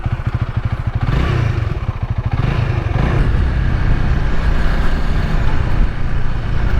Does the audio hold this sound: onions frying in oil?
no